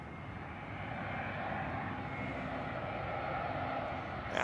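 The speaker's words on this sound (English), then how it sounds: "this looks like a big jetliner right here" A big jetliner passes over a lake at night, its engine roar a steady, moderately loud broadband rumble that holds even throughout, with no voices.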